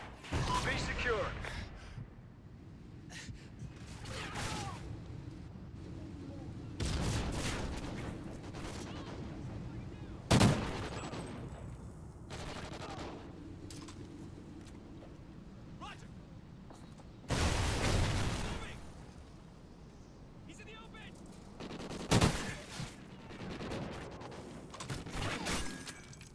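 Bursts of gunfire in a 4v4 Domination match of a multiplayer shooter video game, sharp volleys and loud impacts recurring over about half a minute, with game voice callouts between them.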